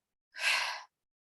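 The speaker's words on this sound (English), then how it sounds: "And a long breath out as you let them drop." A single long, soft exhale during a gentle yoga shoulder-release exercise, a breathy rush lasting about half a second, close and alone in silence.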